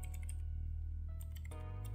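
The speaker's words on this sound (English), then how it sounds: "typing in Tampermonkey" Quick, steady keystrokes on a computer keyboard as a userscript manager is typed into a browser, with no voices over it.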